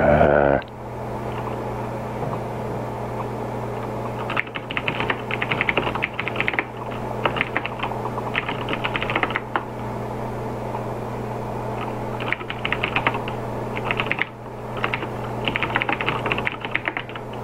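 A computer keyboard sits right by the microphone and is typed on in loud, close bursts of clicky keystrokes, with pauses between runs over a steady electrical hum and no voices.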